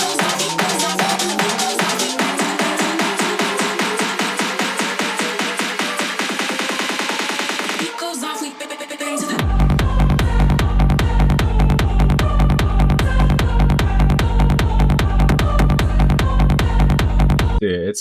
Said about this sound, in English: It's kind of like a hard techno-ish, more so driving techno, and it's got a little bit of that psytrance bass to it.